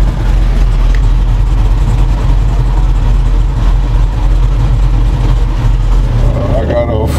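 Modified 2011 Ford Mustang 5.0 with full exhaust, headers, off-road X-pipe and Roush axle-backs, running on a Mustang dyno; a loud, continuous deep engine drone fills the whole stretch, with a faint voice near the end.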